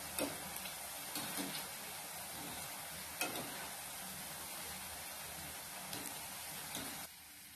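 Boondi, small droplets of gram-flour batter for kara boondi, sizzles and fries in hot oil with a steady hiss, broken by a few sharp clinks of a ladle or stirring. It sounds close and loud and stops near the end.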